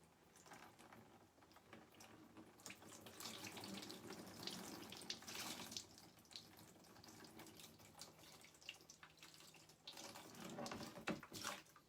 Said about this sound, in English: it's just regular tap water that I rinse it with